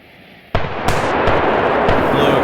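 Fireworks in the game Firework Mania burst in a loud, dense volley: a sharp blast opens, then overlapping crackling explosions and booms follow without pause, close and continuous.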